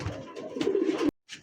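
A young pigeon gives a single close, low, throaty coo, then falls briefly silent before a faint trailing breath of sound.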